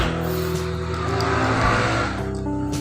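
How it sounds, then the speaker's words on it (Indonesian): Motorbike engines drone and rev nearby, a loud steady roar as several pass by, rising and then fading slightly at the end. "Tuh suara motor banyak banget."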